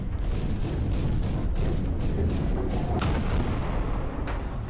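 Rocket fire from a mech in the VR game Iron Rebellion: a loud, continuous rumbling barrage of repeated blasts that carries on throughout.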